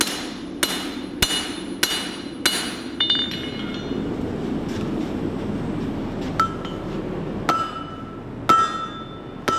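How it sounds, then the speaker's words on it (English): Repeated hammer blows ring out as knife handle metal is flattened on an anvil, sharp metallic strikes at a steady pace early on, then sparser ringing clinks over a constant background hum. "once you hammer it back thin again"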